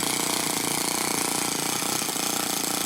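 A Toyan FS-S100AC miniature four-stroke model engine from a DIY kit runs steadily, a fast, even, buzzing mechanical chatter close up with no talk over it.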